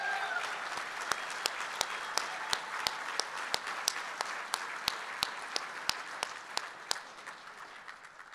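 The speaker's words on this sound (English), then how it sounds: "Another round of applause." Guests at the 2021 MCA Logistics Awards Dinner give a steady, fairly distant round of applause, with regular sharp ticks running through it before it tapers off at the end.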